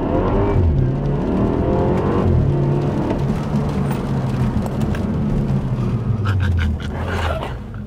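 A Dinan-tuned BMW F30 accelerates hard in the rain, its engine rumbling and rising in pitch through the gears from inside the car, loud and continuous, easing off near the end.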